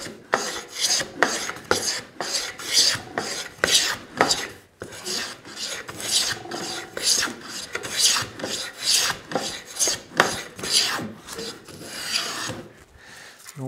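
A homemade wooden hand plane shaves long strokes off a maple board, each pass a crisp rasping swish, repeated rhythmically and close up with short gaps between strokes.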